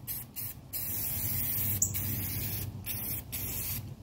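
Spray paint hisses in steady bursts onto a suspension spindle from a 1985 Mercedes 300CD, close and loud with short pauses between passes.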